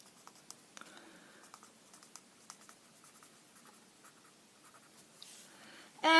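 A pen or pencil scratches and taps across paper in short, quiet strokes while graph asymptotes are sketched by hand, close and soft, with no talking.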